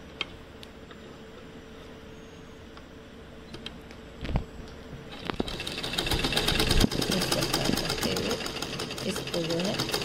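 A sewing machine stitches a square neckline on a garment, starting with faint scattered clicks and then running in a steady, fast mechanical whir, with someone talking over it.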